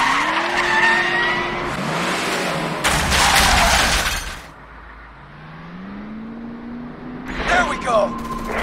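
In Resident Evil 6 a car is driven fast through a chase, engine roaring close and loud with rising revs, squealing tires and a burst of crashing impact, while people talk over it.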